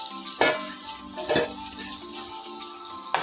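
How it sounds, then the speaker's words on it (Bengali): Potato pieces frying in a pan at home for a Bengali meal, a steady close sizzle broken by a few louder bursts as the pieces are stirred or turned, with no one talking. "আমি একটু আলুগুলো ভাজা ভুজি একটু হালকা হালকাগুলোকে করে নিই"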